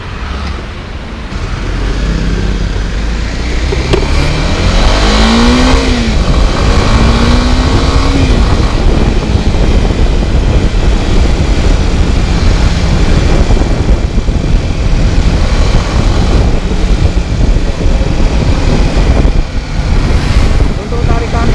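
Kawasaki Ninja 250 SL motorcycle from 2017 on a test ride, engine revving and pulling hard through rising revs amid loud continuous wind and road roar close to the rider.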